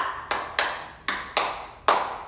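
Five sharp hand claps at an uneven rhythm in a quiet room during a primary school lesson, each crisp and close, ringing briefly before the next.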